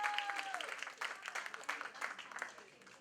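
An audience claps for a few seconds, steady and dense applause at moderate distance, with a voice briefly heard at the start.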